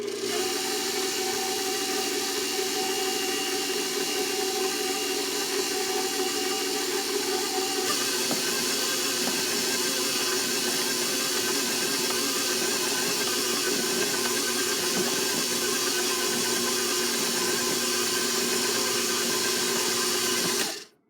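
A stand mixer with a paddle beats powdered sugar into a thick apple cake batter, giving a steady, loud mechanical whir with rhythmic knocking that runs continuously for about twenty seconds before stopping abruptly.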